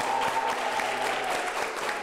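Audience applause on a comedy talk show stage, a soft, steady patter of many hands heard at a moderate distance with no speech over it.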